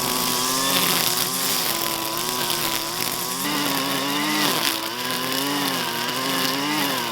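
A lawn mower runs steadily and loudly through the whole stretch, its engine drone wavering slightly in pitch as it mows grass in a backyard near a trampoline.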